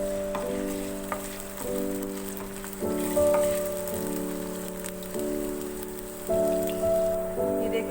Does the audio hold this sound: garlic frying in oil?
yes